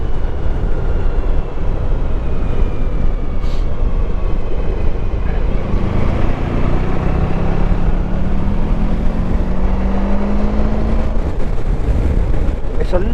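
A Honda Pan European ST1100 motorcycle is underway on a humid day, its engine drone and wind rush loud and constant, with a rider talking intermittently over the noise.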